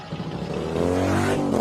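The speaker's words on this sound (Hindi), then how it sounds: "फिर स्कूटर की एक आवाज जाती हुई सुनाई दी," A scooter engine revs up and pulls away at night, its motor whine rising steadily and holding, moderately loud with no voices.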